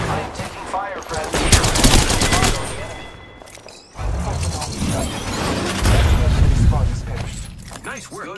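Video game gunfire in fast automatic bursts, loud and close, with a brief lull before the shooting resumes, while voices talk over it.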